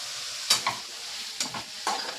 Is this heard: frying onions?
yes